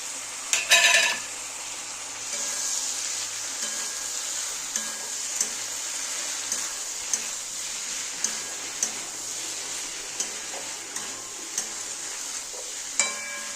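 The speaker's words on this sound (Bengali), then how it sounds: "এবার আমি সর্ষে আর কাঁচা লঙ্কা বাটাটা দিয়ে দেবো" Okra and potatoes frying with mustard and green chilli paste give a steady, moderately loud sizzle, broken by a brief clatter at the start and light spoon ticks as the pan is stirred.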